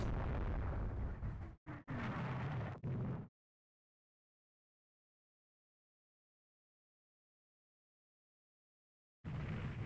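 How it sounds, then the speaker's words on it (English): Naval gunfire and shell hits in the warship strategy game Rule the Waves 3: loud, dense bursts of booming impacts and rumbling explosions for about three seconds, then a long silence before another loud barrage starts near the end. "She's just being battered by gunfire."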